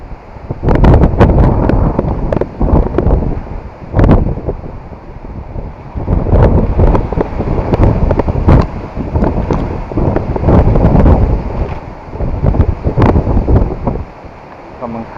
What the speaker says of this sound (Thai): ลมพัดเย็น